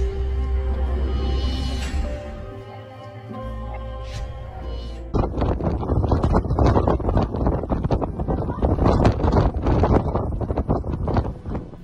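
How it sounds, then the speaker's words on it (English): Blizzard wind from a Siberian snow cyclone in Western Yakutia, Russia, gusting and buffeting the microphone, with a steady tonal hum early on and then harsh, crackling wind bursts that continue to the end. "The snow cyclone from Siberia, which brought blizzards and wind to Western Yakutia, will linger for a couple of days."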